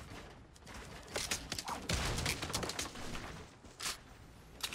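Silenced weapon gunfire in Fortnite: fairly faint, muffled bursts of rapid shots in irregular clusters, heard from a distance with a soft crackling texture and no talking.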